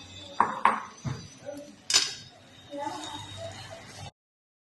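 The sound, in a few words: adding roasted semolina into a pan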